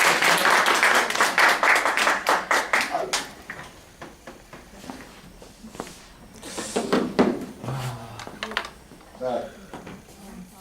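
A lecture audience applauds the instructor at the close of a blog-writing class: dense clapping for about three seconds that thins into scattered claps, followed by someone speaking with a few more claps in between.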